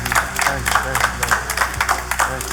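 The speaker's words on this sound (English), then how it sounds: "Give him a round of applause, y'all." Audience applause greets a fiddler and rapper, clapping that comes in uneven bursts while voices and a low hum carry on underneath.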